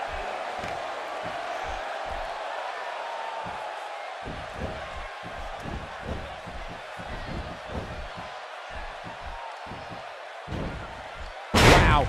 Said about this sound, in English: He just slammed him with ease